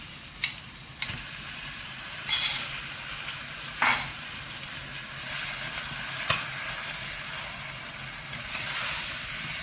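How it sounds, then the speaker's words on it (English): Mutton mince fries in a pan with a soft continuous sizzle, broken by several sharp spoon clacks and stirring scrapes. "So now I am going to add the mutton mince."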